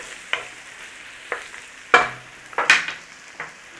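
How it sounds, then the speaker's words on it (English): Onions and garlic stirred in a pan for potato and bacon soup give a few short, sharp bursts of sizzle and scraping at uneven intervals, over a quiet background. "Cook out the rawness of the onion and the garlic."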